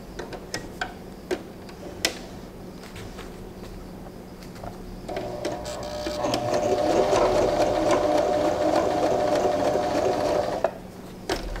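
A Janome Arctic Crystal sewing machine sews an open zigzag stitch at stitch length 4 on scrap fabric. A few light clicks come first, then a steady, fairly loud mechanical whir runs for about five seconds before stopping.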